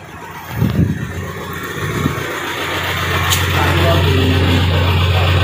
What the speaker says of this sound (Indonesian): Mesinnya sudah kedengaran untuk kondisinya perlu perbaikan.